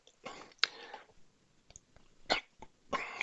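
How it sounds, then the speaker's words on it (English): A man with a lingering cold coughs and clears his throat close to the microphone, several rough bursts with short quiet gaps between them. "I'm just suffering from a bit of a back end of a cold and a cough, so I have to keep clearing my throat"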